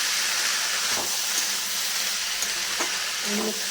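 Banana flower frying in a pan for a prawn and banana flower dal, a steady broadband sizzle with a few soft stirring scrapes, close and continuous throughout.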